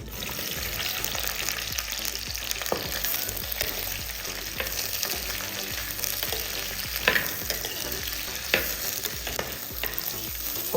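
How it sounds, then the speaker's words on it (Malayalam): Sliced okra sautéed and stirred in hot coconut oil for a Kerala-style curry, a steady close sizzle and frying hiss throughout with occasional scraping stir clicks from the pan. "ചൂടായ എണ്ണയിലേക്ക് നമുക്ക് ഇന്ന് കട്ട് ചെയ്ത് വെച്ചിട്ടുള്ള വെണ്ടക്കായ ചേർത്ത് കൊടുക്കാം."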